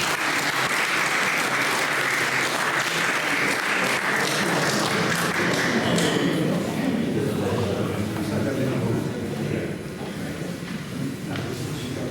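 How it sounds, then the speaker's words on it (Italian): Sustained, loud audience applause for a poet at a Sardinian poetry competition, steady dense clapping throughout with crowd murmur underneath. "Un applauso a Gavino."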